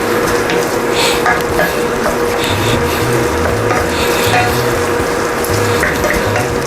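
Chicken gizzards with chili flakes and black pepper are stirred in a pan, giving a loud, continuous rasping scrape of the utensil over a steady sizzle, close up.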